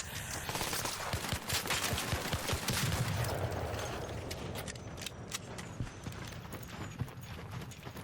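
Rapid bursts of gunfire crackle through the busy game soundscape of Arc Raiders, sharp reports scattered irregularly over a dense, steady bed of background noise with no talking.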